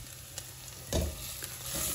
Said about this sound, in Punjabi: ਪਿਆਜ਼ ਆਪਣਾ ਭੁੱਜਦਾ ਆ